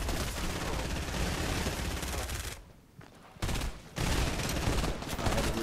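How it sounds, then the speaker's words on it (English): Dense gunfire in a Nintendo Switch shooter game, rapid bursts filling most of the stretch with a brief lull in the middle before firing resumes, loud and continuous. "I hear the gunshots."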